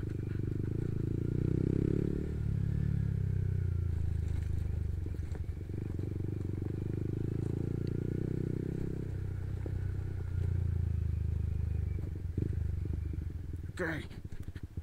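A motorcycle carrying a heavy load labours over a badly damaged road on the way to Watu Nggong. Its engine rumble is loud and continuous, rising and falling, with clattering jolts and a voice heard at times.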